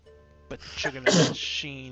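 A single sharp sneeze bursts out loudly at close range during a tabletop role-playing game session, with voices speaking around it.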